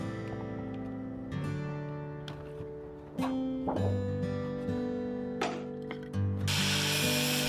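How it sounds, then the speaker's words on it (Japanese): An angle grinder deburrs the cut metal edge of a wood-stove cover, whining in steady tones that shift in pitch as it bites, with short gritty scrapes and a louder burst near the end. "最後はグラインダーで仕上げのバリ取り。"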